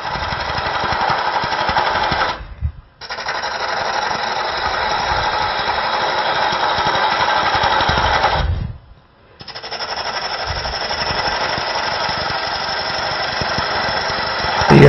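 A wood lathe spins while a pepper mill blank is turned, giving a loud, steady motorized drone with cutting noise that briefly drops out twice, and no speech.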